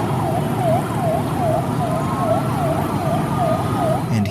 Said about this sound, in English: Upon hearing the siren of the ambulance, immediately a highway is opened.